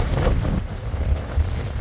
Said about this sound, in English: the wind is about 23 miles per hour from the northwest, and it is really kicking up